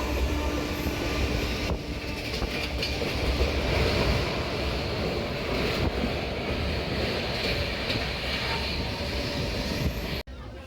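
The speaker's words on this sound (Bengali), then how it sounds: "ট্রেন মোটামুটি ভালোই স্পিডে চলছে" Shalimar Puri Superfast Express running at speed at night, heard from inside a general coach: a loud continuous rumble and rattle of wheels on rails with wind noise, broken by a sharp dip near the end.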